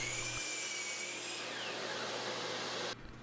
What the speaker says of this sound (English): At the miter saw, I like to set up a stop block so when I cut all of the boards for the top and bottom panels,